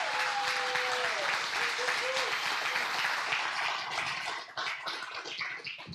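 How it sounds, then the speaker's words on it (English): A congregation at a pastor installation service gives a round of applause for the new senior pastor, a dense, steady clapping that carries for several seconds and thins out near the end, with a voice speaking briefly over it early on. "Please give a round of applause for Reverend Philman DeGette."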